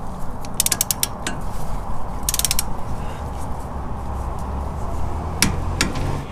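A wrench ratchets a castle nut on an upper ball joint down to 80 foot-pounds, giving quick bursts of close, crisp pawl clicks with pauses between strokes over a low workshop hum.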